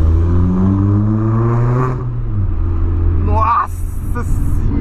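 A VW Polo with a straight-pipe exhaust revs loudly close by, its droning engine note climbing and then falling, with a voice heard briefly over the roar.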